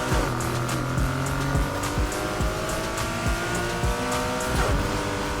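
Race cars roar in Need for Speed Heat, with a Nissan Skyline 2000 GT-R HakoSuka race build revving hard alongside a GTR, engines droning with shifting pitch and repeated tire squeals, loud and continuous.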